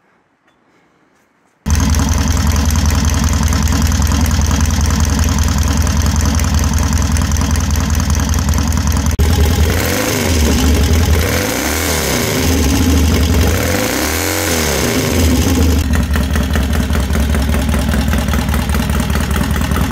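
A 1967 Triumph T100C motorcycle, a barn-find desert sled, starts with a loud burst and runs steadily up close, idling with a mechanical knock before revving twice in quick rising-and-falling swells, then settling back to a steady idle.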